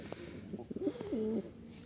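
Pair of Turibaz pigeons, a red-black male and female, give a soft, low cooing call that swells into a steady sustained coo near its end, close and clear with no talk over it.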